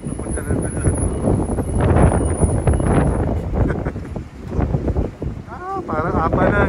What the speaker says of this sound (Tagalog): Grabe lakas ng hangin, no?